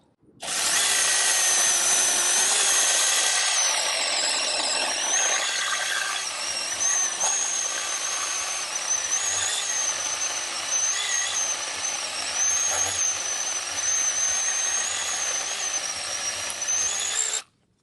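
A small 6-inch brushless cordless mini chainsaw whines steadily as it bites through a birch log, a loud continuous high-pitched motor drone lasting the whole stretch before cutting off.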